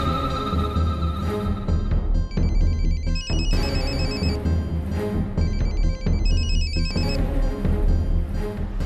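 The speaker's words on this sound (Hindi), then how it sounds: "जरा अर्चना को फोन तो लगाना।" A telephone rings with repeated electronic ringtone bursts over a loud background music score in a Hindi TV drama scene, with no talk heard.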